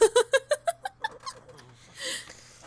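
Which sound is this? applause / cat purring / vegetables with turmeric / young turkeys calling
cat purring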